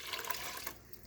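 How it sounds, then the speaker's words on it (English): Chicken broth pours into a pot of rice, a brief, faint, continuous liquid splash that fades away. "Pour the rest of my broth in here."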